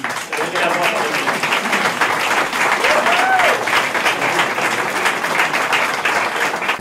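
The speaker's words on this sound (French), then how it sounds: "On donne une bonne main d'applaudissements à Mme Audrey Corby." Full, steady audience applause at a public event, dense clapping sustained throughout with faint voices and an occasional whistle-like tone in the crowd.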